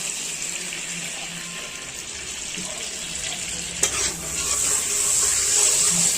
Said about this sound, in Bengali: এখন চিংড়ি ভাজা তেলের ভিতরে আমি সরষের তেল দিয়ে দিচ্ছি।